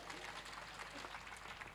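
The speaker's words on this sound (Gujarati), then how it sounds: "બધા તાળીઓ પાડો બધા માટે." Audience at a devotional festival gathering claps together, a dense, even burst of applause lasting under two seconds.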